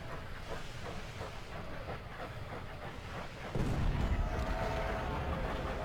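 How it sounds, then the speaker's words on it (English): A steam train in the game Ultimate General: Civil War rumbles in, chuffing and hissing, growing louder partway through as a heavy roar and steam hiss swell up. "Do you hear the steam engine? It's the train coming in."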